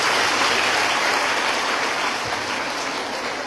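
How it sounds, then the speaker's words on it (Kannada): A dense, steady wash of applause from a crowd carries on throughout and eases off slightly toward the end. "ಚಪ್ಪಾಳೆ ಹೊಡಿಬೇಕಪ್ಪ"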